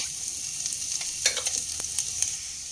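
Grated garlic and ginger fry in hot oil, a constant bright sizzle broken by several sharp scraping strokes of a spoon stirring the pan, close and moderately loud, with no voices.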